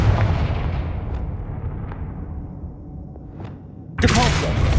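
Confringo explosive spell cast in the Hogwarts Legacy video game: a steady low rumbling roar with faint crackles, then a sudden loud, sharp blast burst near the end that stays bright and noisy.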